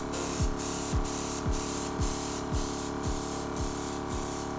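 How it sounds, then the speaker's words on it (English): Steady airbrush hiss of cleaner spraying continuously, with a faint low pulsing underneath repeating about twice per second, close and fairly loud. "Spray some cleaner through."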